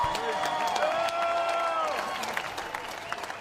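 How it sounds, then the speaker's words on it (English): Crowd applause and cheering at a bare-knuckle fighting championship event in Dubai honour two fighters after a five-round bout, with a loud arena roar and tonal sounds up front that settle into scattered clapping. "let's have a round of applause for these 2 warriors"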